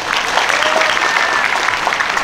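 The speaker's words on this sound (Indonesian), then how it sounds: "Tepuk tangan." Steady, dense applause from a large seated crowd at a scout gathering in an Islamic boarding school in Sumatra, continuous and fairly loud throughout without letting up.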